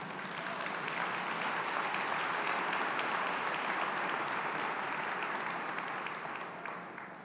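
An audience at a leadership conference breaks into sustained, dense clapping that holds steady for several seconds before tapering off, with no talking over it.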